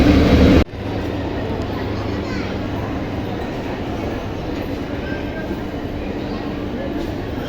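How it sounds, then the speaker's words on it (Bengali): Dhauli Express train pulling into a station, a loud continuous rumble of rolling carriages after a brief burst of other noise, with station ambience and voices in the background. "আমাদের ট্রেন ঢুকছে।"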